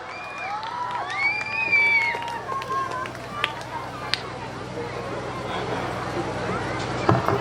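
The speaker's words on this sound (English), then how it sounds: "A big round of applause." At an award event, a crowd cheers and shouts with voices rising and falling, while scattered claps and a few sharp sounds come through. Some people talk underneath.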